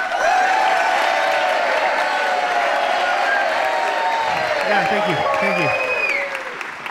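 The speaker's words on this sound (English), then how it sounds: "They're cheering for the beer, not for you." A crowd at a beer tasting cheers and applauds loudly and steadily, a dense wash of clapping and whoops that fades near the end, with voices talking over it.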